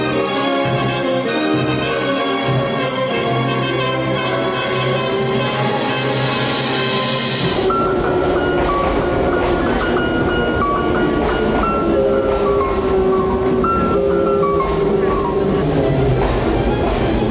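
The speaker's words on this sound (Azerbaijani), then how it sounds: "Qatar stansiyaya çatarkən" A train rumbles steadily and loudly into a station, its rolling clatter continuous throughout, with music heard over the noise.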